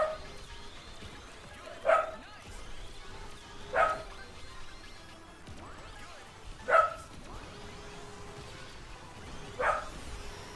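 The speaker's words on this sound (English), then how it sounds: "Doggo's barking at the wind" A dog barks at the wind in short single woofs, four spaced a couple of seconds apart, moderately close over a busy background of game music and effects.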